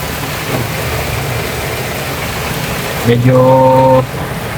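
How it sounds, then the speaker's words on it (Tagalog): Heavy rain pours steadily on a vehicle during a trip in the Philippines, a dense hiss throughout with a low engine hum beneath, and a sustained harmonic tone cuts in briefly near the end. "Grabe lakas ng ulan"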